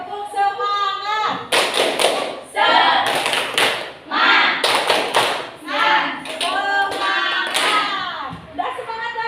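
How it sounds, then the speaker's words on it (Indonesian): A group does the tepuk semangat spirit clap, sharp claps landing in quick rhythmic bursts with voices chanting loudly over them throughout. "Kita tepuk semangat dulu ya."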